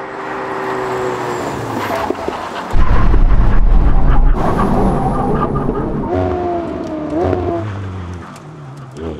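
A McLaren and a modified Ferrari 488 Pista run a brake test as a drag race. Loud engine roar surges as both cars launch, followed by revving and shifting tones and a tapering note as they slow. No talk is heard.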